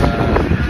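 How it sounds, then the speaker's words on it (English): Steady wind buffets the microphone with a loud, continuous roaring rumble and no clear voices. "So windy."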